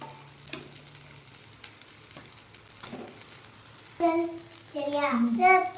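Rice is added to golden-brown fried onions in a pan and stirred, a gentle sizzle with scraping strokes that swell louder toward the end, a voice briefly audible in the background.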